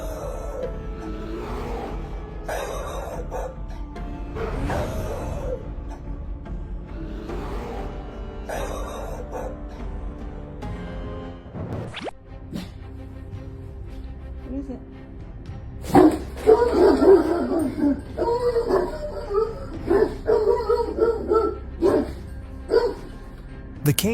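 A French bulldog barks in short bursts, chasing bear cubs away from a residential neighborhood, with a voice talking over the early part and louder, busier barking and yips after the midpoint.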